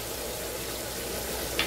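Onions fry in a pan with turmeric just added, giving a steady, soft, close sizzle with one brief clink near the end.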